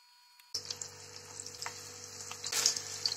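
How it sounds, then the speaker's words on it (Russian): Minced meat cutlets sizzle and crackle in an oiled frying pan, a quiet steady frying hiss that starts abruptly and carries on without any talking. "Накрываем сковородку крышкой, обжариваем до золотистого цвета."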